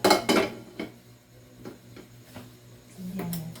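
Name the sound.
frying pan being handled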